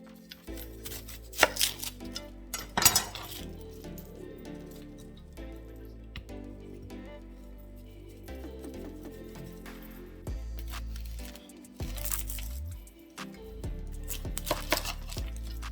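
Kitchen knife chopping an onion on a cutting board for a beef noodle stir fry: irregular bursts of sharp chops, some quick runs and isolated strikes, close up with no talking.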